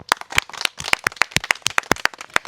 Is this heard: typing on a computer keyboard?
no